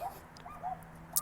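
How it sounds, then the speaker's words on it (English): A small dog barks somewhere beyond a window, giving a few short, faint yips and whimpering barks spread across a quiet indoor background with a low steady hum. "I don't know if you can hear this little doggy barking in the window."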